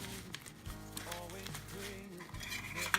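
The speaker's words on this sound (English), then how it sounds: "And here I've got this little to-go silverware set." A bamboo to-go silverware set with spoon, fork, small knife and chopsticks is handled, giving soft clicks and light rattles of utensils knocking together, close and fairly quiet, with a voice briefly heard.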